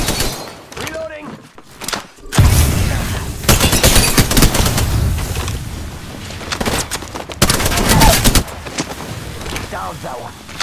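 Gunfire in the battle-royale video game Apex Legends, with bursts of rapid shots and sharp impacts filling most of the clip, loud and close, mixed with game effects and some speech-like sounds.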